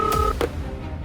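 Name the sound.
landline telephone call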